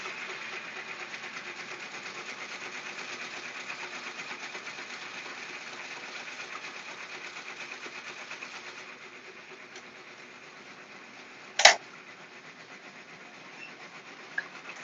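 A machine runs in a small home Etsy shop, where several machines are working at once, giving a steady mechanical whir that lasts throughout, with one sharp clack near the end.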